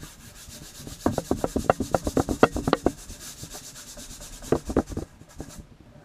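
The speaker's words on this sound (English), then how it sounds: "Try using some eraser." An eraser rubs on paper in quick bursts of back-and-forth scrubbing strokes, then pauses and resumes with a shorter burst. The sound is close and dry, with no voices.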